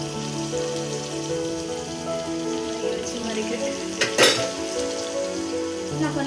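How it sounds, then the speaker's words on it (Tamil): Chilli chicken sautéing in a pan with soy chilli sauce, tomato sauce and a little lemon gives a steady, close sizzle and crackle. One brief scrape of a spatula stands out partway through. "இதை வந்து நல்லா வதக்கிறேன்"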